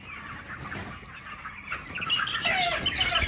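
A broiler chicken on a poultry farm clucks and squawks as it is caught, with some wing flapping. The calls are short and fairly close and grow louder and more agitated toward the end.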